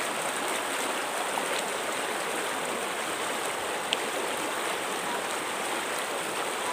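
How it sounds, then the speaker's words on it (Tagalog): A strong river current rushes at Daraitan in Tanay, Rizal, a loud, continuous broadband roar of churning water with faint splashes, steady throughout with no voices. "Malakas yung tubig."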